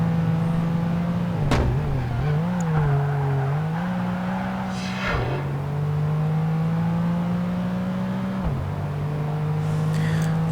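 Car engine in Project Gotham Racing 2, Grand Touring series, driving around a large city square at night: a loud, steady engine drone that rises and dips with brief gear shifts and revs.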